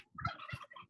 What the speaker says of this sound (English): they're called blue slate turkeys